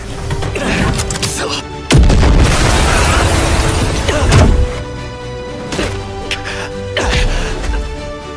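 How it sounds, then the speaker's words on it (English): Heavy booming blasts and crackling bursts follow one another in a chaotic, loud anime fight scene from Fire Force, with brief sharp impacts layered over a rumbling roar. "The pair then spend a few moments blasting each other with some big ass explosions"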